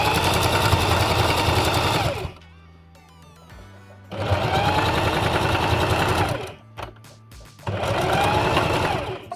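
Sewing machine stitching fabric scraps into a bag, three fast, loud runs of rapid needle clatter up close, separated by pauses filled with small clicks and handling noises.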